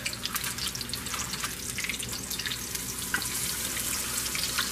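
Fish for fish and chips frying in hot oil: a steady, dense sizzle with crackling pops throughout, close and fairly loud, with no voices.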